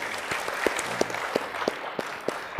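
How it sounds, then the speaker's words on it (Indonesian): Scattered handclaps from a gathered audience at a cultural discussion event in Yogyakarta, with sharp individual claps ringing out at a fairly regular pace over a soft background and a brief murmur of voices partway through. "tepuk tangan untuk beliau"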